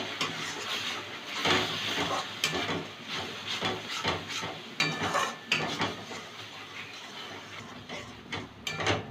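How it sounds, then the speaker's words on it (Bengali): Ground cumin, turmeric and Kashmiri chili powder sauté with a splash of water in a pan for a young jackfruit curry: a steady sizzle and hiss with repeated scraping and clinking of a spoon against the pan, close by. "ভালো করে কষিয়ে নেব।"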